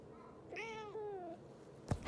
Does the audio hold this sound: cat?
yes